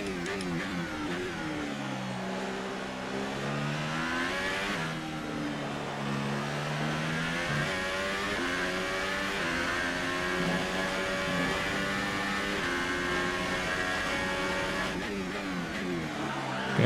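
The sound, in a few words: race car driving in F1 2018 video game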